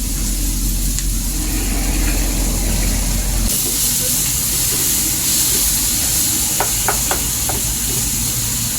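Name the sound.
sautéing turmeric and tomato in a pan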